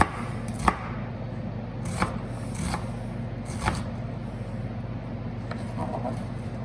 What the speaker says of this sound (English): while I chop up our our onion